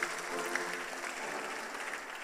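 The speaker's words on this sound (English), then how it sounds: "Please, a round of applause to the Lord Almighty." Congregation applauding at a Nigerian Baptist Convention birthday celebration for a pastor's wife, a steady wash of many hands clapping at moderate distance, even and unbroken throughout, with no voices rising above it.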